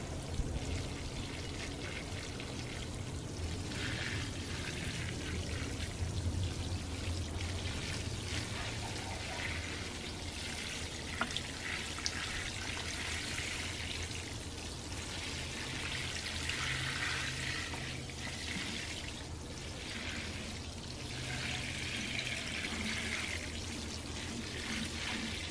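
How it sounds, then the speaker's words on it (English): Corn plants in a 20-gallon grow bag are watered with a fish fertilizer solution, giving a continuous close pour and splash of water onto soil that runs steadily without pause. "We're just going to water those in."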